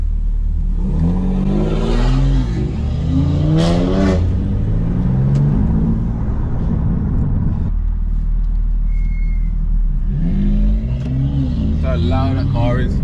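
A loud BMW G80 in a street convoy revs and accelerates hard, its engine note climbing in repeated surges and holding a heavy roar throughout, with people talking over it.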